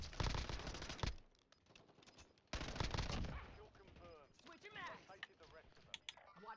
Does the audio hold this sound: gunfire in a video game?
yes